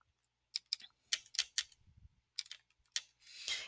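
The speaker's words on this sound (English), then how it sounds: "So I would type that into my calculator." Calculator buttons are pressed to enter numbers for a percentage problem, giving a string of quiet, sharp clicks in an uneven rhythm, close and alone, ending in a brief rustle.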